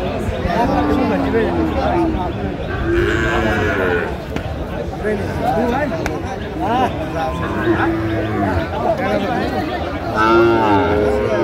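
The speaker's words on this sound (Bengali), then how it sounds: "100 শাহিওয়ালের ষাঁড় আমরা দেখছিলাম এখানে, দামাদামি চলছে।" Sahiwal bull calves moo amid a busy cattle market in Narsingdi, Bangladesh, short moos rising here and there under constant close talk and crowd chatter.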